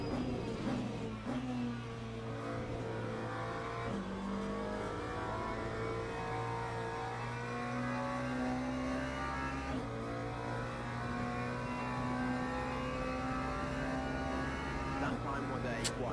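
Race car engine in a video game at Silverstone, revving loud and close through long climbing pitches broken by abrupt gear changes, with a voice talking over it now and then.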